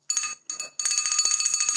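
Small clay bell made for Diwali ringing in short, bright tinkling bursts, two brief strikes followed by a longer rapid jingle, close and clear.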